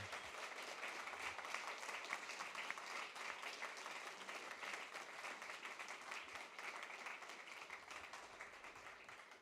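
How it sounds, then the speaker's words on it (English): An audience at a last mile delivery meetup claps for the speakers, a steady patter of many hands heard fairly faint and close, lasting the whole stretch without talk. "ask you for clapping your hands to these fantastic speakers"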